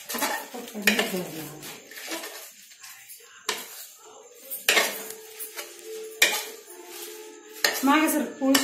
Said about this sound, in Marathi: अशा प्रकारे सारखी हलवून घेऊया परत आपण